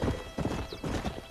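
Hooves of a horse galloping in the video game Red Dead Redemption clatter in a fast, steady clip-clop rhythm, close and fairly loud, with no talk over them.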